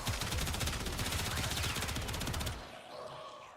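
Incarnon Prisma Gorgon rapid-fire weapon in Warframe, a dense continuous burst of fast gunfire for about two and a half seconds, then cutting off abruptly to quieter game ambience.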